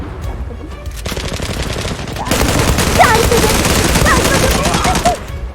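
Rapid automatic gunfire from the online shooter game Zula, a dense continuous rattle of shots that gets louder partway through, with faint voices underneath.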